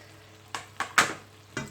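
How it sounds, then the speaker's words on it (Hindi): Green chillies, some chopped and some whole, frying in a pan for okra masala, with a few short bursts of sizzle as they are stirred, close and without speech. "तो अब इनको थोड़ा सा फ्राई करते हैं"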